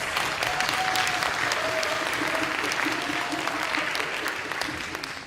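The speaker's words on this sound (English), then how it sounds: "please give a big round of applause to our grand finalists" Sustained applause from an audience for the grand finalists at a youth English debate competition final, a dense steady wash of clapping that fades slightly at the end, with faint voices underneath.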